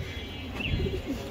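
Racing pigeons at a loft give soft low coos, a few short murmuring calls close by over a quiet background hum.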